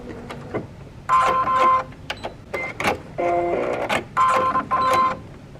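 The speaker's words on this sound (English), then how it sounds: "I'm just going to stitch straight across to the other side of that front strap and back stitch again to anchor that in." A sewing machine stitches straight across a dress strap and back-stitches, running in several short whirring bursts with brief pauses between them, close and loud.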